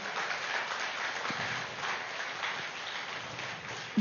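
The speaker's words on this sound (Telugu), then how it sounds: "గట్టిగా క్లాప్స్ రూపంలో" An audience at a meditation gathering claps steadily for about four seconds, a dense, even wash of applause at moderate volume, ending with a brief louder burst.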